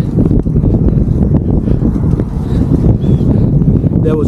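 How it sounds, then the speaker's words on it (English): Strong wind buffeting the microphone of a moving cyclist, a loud, continuous rumbling roar with gusty surges and no break. "half of it was fighting the wind"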